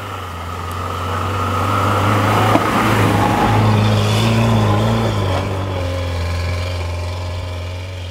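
A UAZ Patriot off-road vehicle revs hard while all four wheels spin on a climb, its engine droning loud and steady, swelling and then easing slightly.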